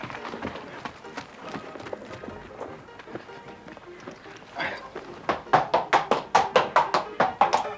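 Horse hooves clip-clop in a steady rhythm, quiet and mixed with background noise at first, then growing louder and sharper as the horse comes close near the end.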